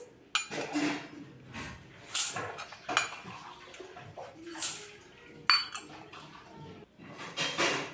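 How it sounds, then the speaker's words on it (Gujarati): Rice poured and scooped into a metal mixing bowl for dhokla batter, producing a series of sharp clinks and rattling scrapes that come in irregular bursts, close and fairly crisp. "મિક્સિંગ બાઉલ લઈ લીધું છે એમાં આપણે ચાર વાટકી ચોખા એડ કરી દઈશું"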